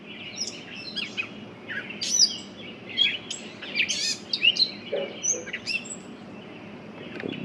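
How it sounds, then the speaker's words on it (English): Small birds chirp and tweet repeatedly near an early-morning fishing pond with metal handrails, bright short calls in irregular bursts over a quiet outdoor background, with no talking. "Bird's making a bunch of noise too."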